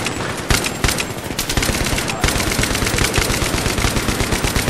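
Battlefield 3 combat with heavy machine-gun fire, a relentless close, loud stream of rapid shots continuing throughout with dense overlapping bursts.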